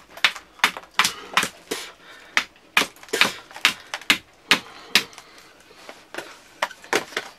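Sharp, loud, repeated strikes as the sides of a wooden bow are cut, an uneven rhythm of close woody cracks and knocks with short gaps between them.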